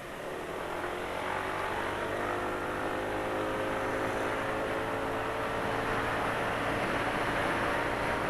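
A CVT scooter engine with a rough running noise revs steadily, a continuous close whirring drone holding at a fairly even pitch and loudness with no talk.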